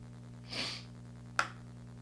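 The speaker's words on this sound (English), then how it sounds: "I'm so sorry that I sniffle on camera like every 5 minutes" A nose sniffling from a dust allergy, one breathy inhale followed a moment later by a sharper, quick sniff, close and quiet over a low steady hum.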